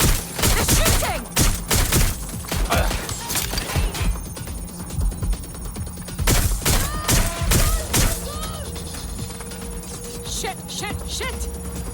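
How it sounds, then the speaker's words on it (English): Dense gunfire in the video game Watch Dogs: Legion, with rapid loud bursts and scattered single shots cracking close by through the whole stretch, and game voices talking in between. "They're shooting!"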